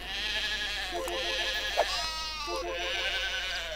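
Sheep bleat repeatedly in the video game Black and White 2, several wavering cries overlapping and coming in close succession over a steady game background, with no talk.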